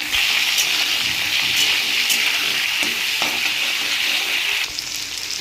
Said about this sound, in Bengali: সবজিগুলো লাল লাল করে ভেজে নেব